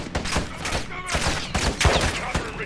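Rapid bursts of gunfire from Call of Duty: Modern Warfare 2 gameplay crack out in quick, closely spaced shots, loud and dense throughout the short stretch.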